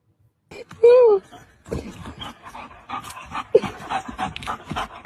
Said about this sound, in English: This is a nice determined dog.